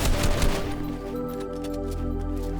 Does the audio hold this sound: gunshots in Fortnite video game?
yes